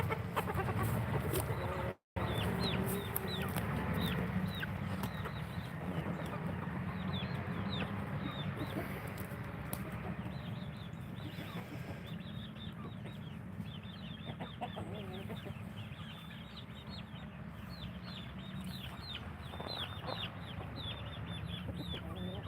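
Chickens on a goat and chicken farm cluck and chatter continuously at close range, with a flock of overlapping short clucks and occasional squawks over a low outdoor rumble, briefly cut out near the start.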